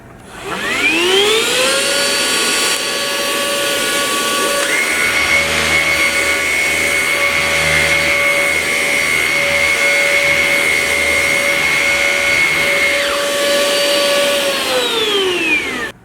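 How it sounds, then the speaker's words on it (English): A vacuum cleaner whines up to full speed, runs with a steady loud hum and high-pitched whine, then winds down as it is switched off. "someone asked me how loud the vacuum was"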